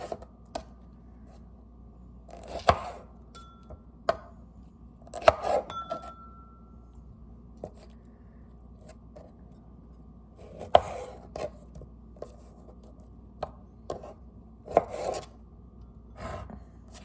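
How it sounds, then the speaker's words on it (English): Sharp knife chopping strawberries on a cutting board, spaced irregularly with pauses between small bursts of strokes, close and fairly quiet. "Chopping up strawberries in the morning."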